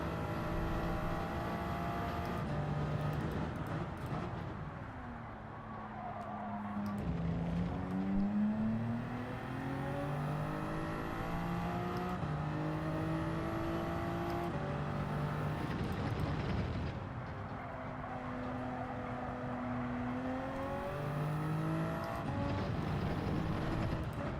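Race car engines roar and rev in a Gran Turismo 7 race, rising and falling through repeated gear shifts as the cars accelerate and brake, a loud continuous mechanical drone with no talking over it.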